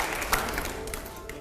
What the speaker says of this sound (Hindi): जोरदार तालियां प्ले करिए जरा।